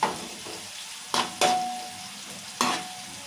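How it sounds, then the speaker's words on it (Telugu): Onions and chillies frying in a pan, a steady sizzle with a few sharp scraping stirs, close and fairly loud, no talking. "ఇక ఉల్లిగడ్డలు మిరపకాయలు మంచిగా వేగినాయి ఎర్రగా"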